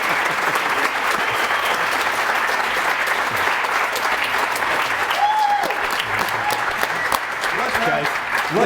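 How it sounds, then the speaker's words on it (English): A live studio audience at the Xscapers BASH 2020 RV gathering's taping of The RVers TV show claps steadily, loud sustained applause filling the whole stretch, with a few faint voices mixed in. "Let's have one last big round of applause for Travis and Mel"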